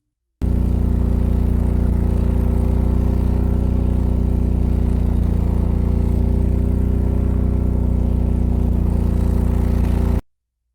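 A home standby generator runs at a steady, even drone with a low hum and no change in pitch, starting and stopping abruptly, with no voices.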